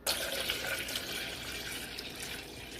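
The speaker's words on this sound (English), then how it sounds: "I'm going to get some cold water to put in here." Cold water runs from a kitchen tap into a tea pitcher, a steady, fairly quiet splashing rush that continues evenly for about three seconds with no one speaking.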